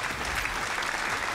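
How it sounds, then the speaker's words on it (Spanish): Clapping applause sound effect dropped into a My Hero Ultra Rumble gameplay stream, a dense, steady burst of many hands that fills the whole short moment without any talk over it. "¡Aplausos para mí mismo, chaval!"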